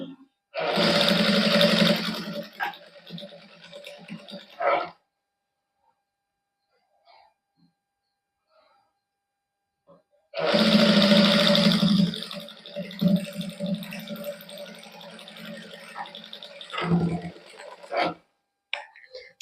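Sewing machine stitching a folded sleeve cuff in a tailoring boutique, two loud sustained runs of several seconds each separated by a quiet pause, with small handling clicks between.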